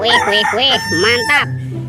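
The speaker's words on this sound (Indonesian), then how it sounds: "ayam berkokok" A toy rooster crows loudly and close, a bright electronic cock-a-doodle-doo rising and falling over about a second, with a person's playful voice talking just around it.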